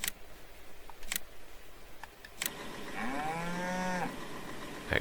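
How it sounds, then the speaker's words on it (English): Cow in Farming Simulator 19 lets out one long, loud, close moo following a few clicks and clatters from the farm. "That has got cows in it."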